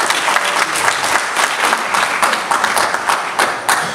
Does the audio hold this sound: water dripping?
no